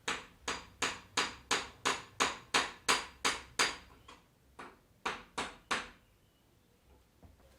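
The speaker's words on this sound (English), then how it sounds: "I'm going to use this rubber part of the hammer and see if we can do it that way." A rubber mallet strikes the bearing caps of a B18 engine during a teardown. About a dozen sharp, evenly spaced knocks are followed by a short pause, three more blows and then quiet, with no talking.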